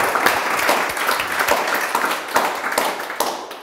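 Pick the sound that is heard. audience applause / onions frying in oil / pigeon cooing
audience applause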